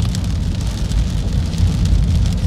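Heavy rain drums steadily and loudly on a car while driving through St Elizabeth in southern Jamaica, a dense continuous roar with road rumble underneath.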